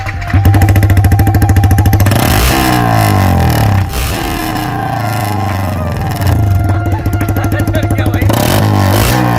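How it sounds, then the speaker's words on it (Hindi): Yamaha MT-15 motorcycle fitted with a loud aftermarket exhaust, close and very loud, revving in rapid pulsing bursts and rising, falling throttle sweeps throughout. "ओह भाई तो ये रहा गाइस एग्जॉस्ट फाइनली एक्रोफोबिक का। कितना लाउड है देखना।"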